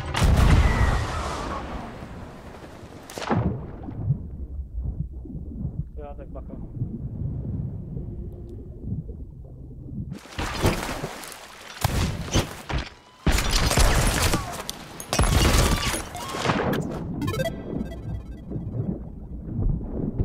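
Ship cannons on a sloop in the Sea of Thieves video game fire in several heavy, booming broadband blasts, some in quick succession, over steady wind and sea rumble, with people talking in between.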